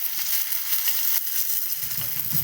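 Fish fries in a pan with a steady, bright sizzle and scattered small pops and crackles, close and continuous, no voices over it.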